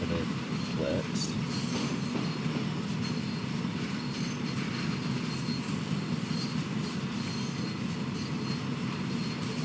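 Railway wagons shunted around Carlisle in Train Sim World 6 give a steady, loud rumble of rolling stock with squealing wheels, continuous throughout.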